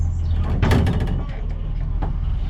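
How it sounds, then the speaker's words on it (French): A door on a truck carrying a car swings open with a short clunk and rattle over steady engine rumble, at a slalom event in Jumièges. "Tiens, on ouvre la porte."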